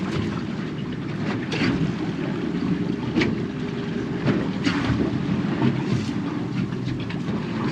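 Small kicker outboard motor pushing a fishing boat at trolling speed on cold ocean water off Newport, Oregon, a steady low drone with wind buffeting and water wash, no talk.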